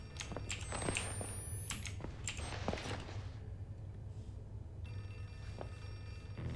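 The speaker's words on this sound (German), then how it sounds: "Ist es mein Handy? Nein. Ich habe einen ähnlichen Klingelton." Phone ringing in the horror video game Outlast 2, a faint ringtone among sharp clicks and muffled background game noise, with no voices.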